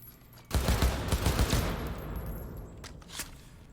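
Bursts of enemy gunfire in the game Cyberpunk 2077, a loud rapid fusillade of overlapping shots that carries on for several seconds, with a couple of sharper single cracks near the end.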